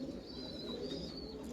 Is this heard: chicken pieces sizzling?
no